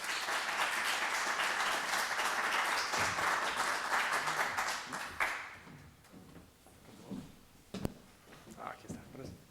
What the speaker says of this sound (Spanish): les pido por favor un fuerte aplauso para Brett Erickson.